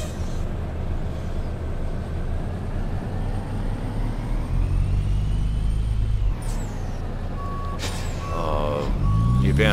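Reversing beeps from a freight truck backing up in a trucking simulator game, a steady repeating tone over a continuous low engine rumble with a brief air-brake hiss.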